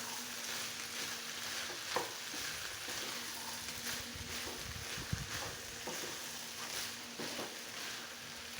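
Chickpea curry with mashed potato sautéing in a pan, a steady broadband sizzle running throughout with a few soft stirring knocks, close and alone without talk.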